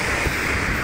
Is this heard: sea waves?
yes